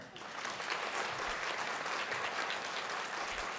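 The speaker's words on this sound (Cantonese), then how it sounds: "我哋再用掌聲嚟到去恭賀得獎嘅同學" A room full of people at a secondary school graduation ceremony claps for award-winning students, a dense, even wash of applause that holds at the same level throughout.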